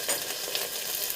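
Onions going into a hot pan with dried chillies (bhut jolokia) for chicken khichdi, a steady loud sizzle and crackle of frying throughout, with no talking.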